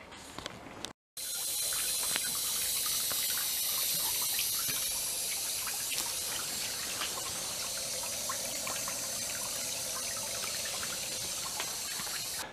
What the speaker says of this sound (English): Just leave the pump on and just let it run and run and run.